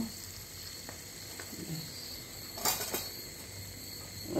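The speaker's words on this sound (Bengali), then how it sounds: "আলু কিছুক্ষণ কষিয়ে নেব" Potatoes sauté in oil with sour yogurt for dum aloo, giving a steady low sizzle with a few soft utensil clinks and a brief louder scrape near the middle.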